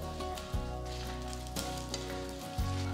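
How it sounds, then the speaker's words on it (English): Coriander, cumin, fenugreek seeds and red chilies dry roasting in a pan for gongura chutney, a continuous close sizzle with a steady hum and occasional stirring knocks, no voices. "Roast the ingredients for about 2 minutes"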